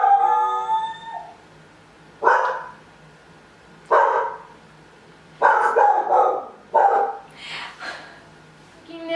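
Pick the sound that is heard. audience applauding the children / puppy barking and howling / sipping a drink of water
puppy barking and howling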